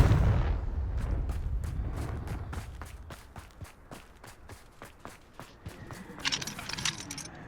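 A fiery Confringo blast spell erupts in Hogwarts Legacy with a loud, deep boom at the start that rolls off, followed by a steady run of crisp footstep-like clicks.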